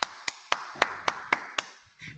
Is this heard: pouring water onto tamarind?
no